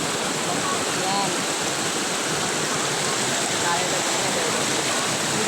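Deep floodwater rushing over a street, a loud, steady broadband roar of churning water that holds constant throughout, with faint voices mixed in beneath it.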